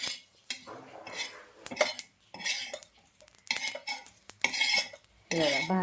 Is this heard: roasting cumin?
yes